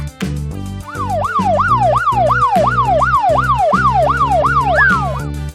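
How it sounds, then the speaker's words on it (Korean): A police car siren sounds loud and close, wailing in steady repeated rising-and-falling sweeps over a musical backing. "police car,"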